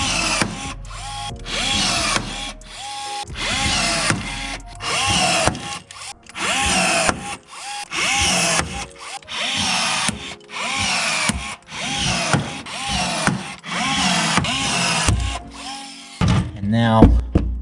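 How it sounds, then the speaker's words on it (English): A drill drives rivets into the aluminum floor of a jon boat conversion. It comes in repeated close, loud bursts with short pauses between them, and speech is mixed in. "Y'all seen me drill a million times already."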